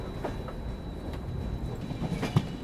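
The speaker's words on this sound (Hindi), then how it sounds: "चलिए इसी के साथ अपना अराइवल रत्नागिरी स्टेशन में हो रहा है।" A passenger train pulls into Ratnagiri railway station, with steady rolling rumble, rhythmic wheel clatter and a sharp metallic clank near the end, heard from inside the coach.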